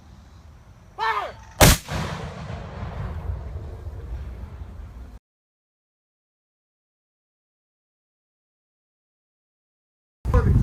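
Civil War field cannon firing at an outdoor weaponry demonstration: a single loud, sharp blast followed by a long rumbling decay, then near silence before another burst begins at the very end.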